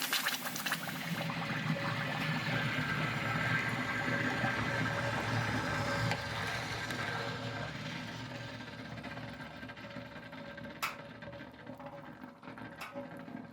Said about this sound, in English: the flask is brought over this tub of water and dropped down in a process called quenching